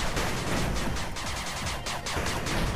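Rapid rocket launcher fire in the video game 8-Bit Armies, a dense continuous barrage of crackling blasts overlapping without pause, loud and close.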